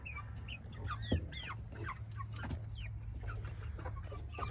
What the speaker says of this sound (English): I'm really thinking it's a rooster.